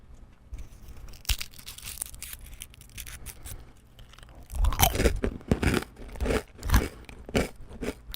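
Crunchy fortune cookie being bitten and chewed close up, with sharp crackling crunches that come sparse at first and then grow louder and denser in clustered bites toward the end, no talking.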